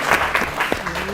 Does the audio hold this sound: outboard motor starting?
no